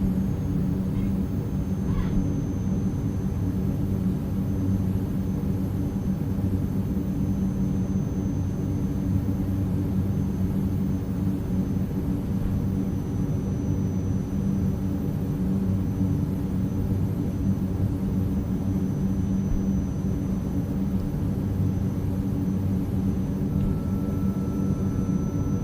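Turboprop engines of an ATR 72-600 in Microsoft Flight Simulator, power levers pulled back, a steady low droning rumble with a faint high whine, continuous and even throughout.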